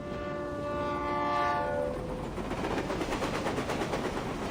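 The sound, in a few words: train passing, from the video game Reverse 1999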